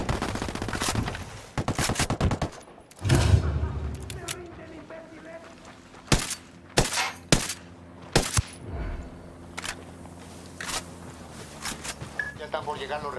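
Gunfight in the video game Ghost Recon Wildlands, with rebels and Unidad soldiers trading submachine-gun fire: sharp bursts and single shots scattered irregularly, some loud and close, others further off, with talk weaving between them.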